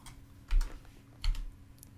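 A few soft, close clicks on a computer keyboard during CAD software work, two brief clusters of taps in an otherwise quiet room.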